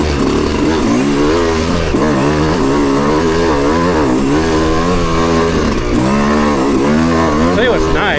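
Motorcycle engine with lower compression, ridden through open scenery, revving up and down repeatedly as gears are shifted without the clutch; a loud, steady drone with rising and falling pitch sweeps at each shift.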